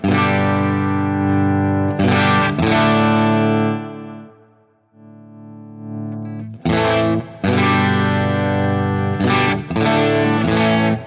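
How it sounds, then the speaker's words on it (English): Distorted electric guitar through a Uraltone Jr kit amp with the boost turned down, loud chords ringing and sustaining, a brief dip into quieter notes midway, then heavy strummed chords again, with no talking. "I'm going to back down the boost just so we can hear the power amp tubes more."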